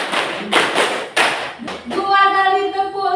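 Hands clap together from a class in several sharp bursts at an uneven rhythm, followed by a sung or chanted tone near the end, all loud and close.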